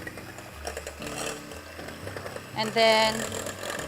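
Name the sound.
electric mixer whisking egg whites at lowest speed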